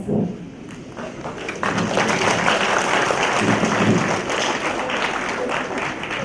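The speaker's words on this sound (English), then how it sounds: "See, all of them are clapping." A lecture audience at a university talk on great men and great women breaks into applause, a loud, dense, sustained round of clapping that swells after a brief lead-in and holds steady.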